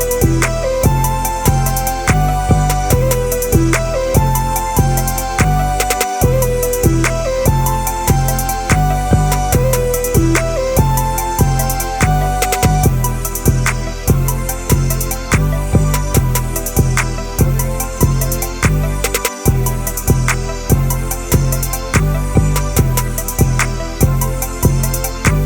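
Full trap beat recreating a song in FL Studio: dense, loud and continuous, with pounding 808s, claps, snares, rapid hi-hats and a looping melody, steady rhythm throughout with two brief dropouts, no voices.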